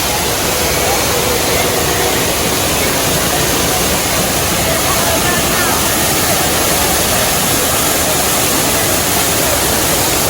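Rushing water at Animal Kingdom, a loud, steady broadband roar like a waterfall or stream, close and continuous with no pauses.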